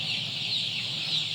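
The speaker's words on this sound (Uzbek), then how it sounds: "Adler jo'jalarini" Adler chicks peep in a dense, steady chorus of high, overlapping chirps, close and continuous throughout.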